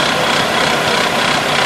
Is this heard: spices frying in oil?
no